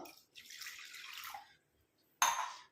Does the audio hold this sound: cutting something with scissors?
no